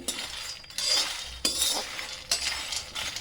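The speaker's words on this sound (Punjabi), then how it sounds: "ਹੁਣ ਆਪਾਂ ਸਭ ਤੋਂ ਪਹਿਲਾਂ ਮਖਾਣੇ ਭੁੰਨਾਂਗੇ" Fox nuts (makhana) dry-roasted without ghee in a pan, stirred so they rattle and scrape against the metal in repeated bursts, close and moderately loud, with no voices.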